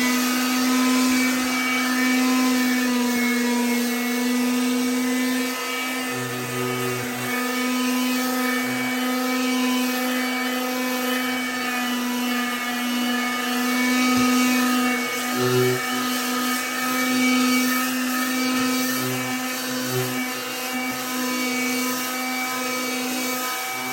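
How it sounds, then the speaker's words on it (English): A hand electric sander scuff sands a kitchen countertop surface, a loud continuous motor whine with steady high buzzing tones that holds throughout, with small thumps as the pad shifts. "So I'm going to use a hand electric sander to scuff sand the upper surface of this and try and get a nice flat, even feel."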